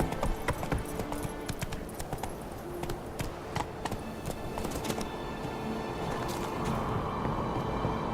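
Hooves of Roach, a horse in The Witcher 3, clop at a steady walking pace throughout, close and clear over a soft outdoor background.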